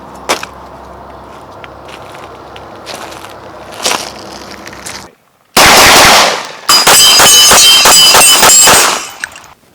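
A Canik TP9 SFX competition pistol fired at a range, with a few distant sharp reports, then a loud close burst of rapid shots in quick succession, each crack echoing sharply.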